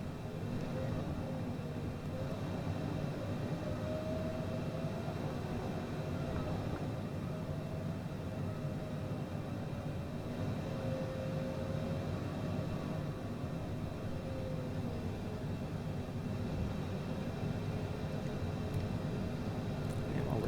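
A Cessna Citation CJ4 jet taxiing in Microsoft Flight Simulator 2020, a steady low jet engine drone with faint whine held throughout, unchanging and continuous with no talk.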